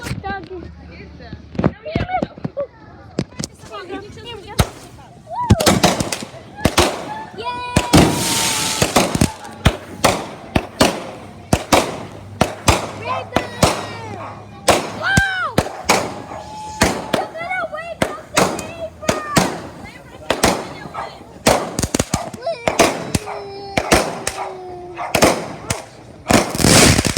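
Backyard fireworks by a pool burst in a rapid string of sharp loud cracks and bangs, some whistling, with excited people shouting and talking throughout.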